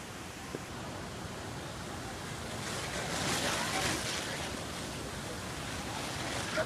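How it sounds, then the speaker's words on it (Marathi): Water from Niagara Falls roars steadily inside a dark tunnel, a dense, even rush that echoes and swells slightly midway with no clear breaks. "हा पाण्याचा आवाज येत होता त्या टनल मध्ये"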